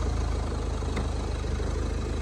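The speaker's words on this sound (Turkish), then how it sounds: "Şu şekilde dizel motor sesinden başka bir şey duymuyorum." A 2016 Ford Tourneo Courier's 1.5 TDCi 75 hp diesel idles with a steady, even low rumble and faint rhythmic clatter, heard close and alone without talk.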